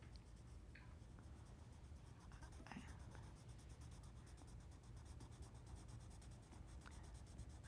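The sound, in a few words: pencil drawing on paper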